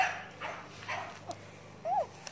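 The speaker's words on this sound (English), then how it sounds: "Here's Baxter, the cutest dog in the world" A small dog makes a few brief, soft whimpering and yipping sounds at close range in a quiet indoor room, with one short rising whine near the end.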